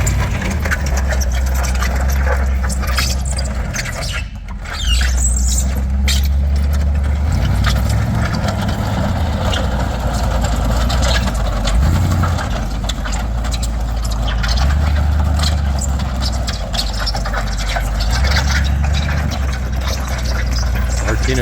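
A vintage 1979 Bombardier wide gauge tracked vehicle runs its engine at a loud, steady low idle while being loaded onto a trailer outdoors. Brief dips and surges break the drone, and voices come and go faintly.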